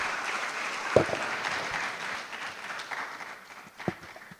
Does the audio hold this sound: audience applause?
yes